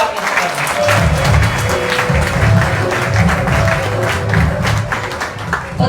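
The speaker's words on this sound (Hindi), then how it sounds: "तो एक बार अपने आप के लिए जोरदार तालियां" Loud, sustained applause from a seminar audience in Ahmedabad, a dense steady wash of clapping hands filling the whole stretch with no talk on top.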